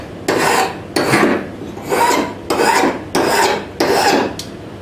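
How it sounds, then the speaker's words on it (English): A file rasps across a steel scraper blade in six steady, even strokes, each about half a second long with brief pauses between, close and loud with no talking. "So that's all that's required in sharpening these scrapers."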